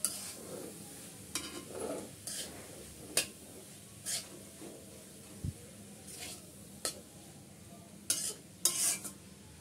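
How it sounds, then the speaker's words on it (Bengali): Quiet scraping and stirring of grated pointed gourd frying in a pan with mustard, soft intermittent spatula strokes over a low sizzle, each scrape faint and spaced a second or so apart. "আমি নেড়ে চেড়ে ভালো করে মিক্স করে নিচ্ছি।"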